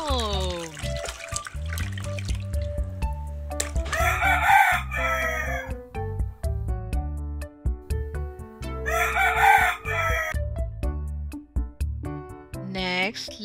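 A rooster crows twice, loud and close, amid splashing water and background chatter.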